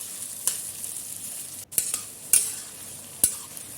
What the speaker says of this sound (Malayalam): ഇതും നല്ലപോലെ ഒന്ന് വഴണ്ട് വരട്ടെ.